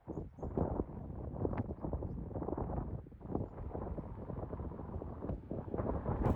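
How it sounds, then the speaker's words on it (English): Wind buffets the microphone outdoors on the Dorset coast near Abbotsbury, a dense low rumbling roar that gusts and dips unevenly throughout with no other clear sounds. "It's a bit windy out."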